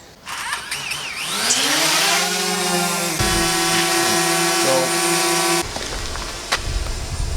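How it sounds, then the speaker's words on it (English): A DJI Mavic Mini drone hovering in gusty wind, giving a loud, close, strained propeller whine that rises and sways in pitch as it fights to hold position, then cuts off near the end. "I can hear it is having a really hard time hovering up there."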